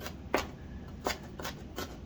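A knife taps on a cutting board as onions are finely minced, with four or five short, light chops spread irregularly and heard close up.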